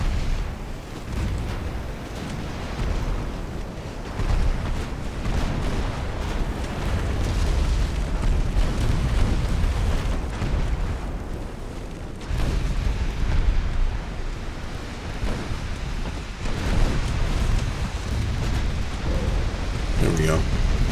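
Torpedo hits explode against a warship in Ultimate Admiral Dreadnoughts, a continuous heavy rumble of booming blasts and roaring sea-battle noise that runs unbroken, with a voice speaking over it.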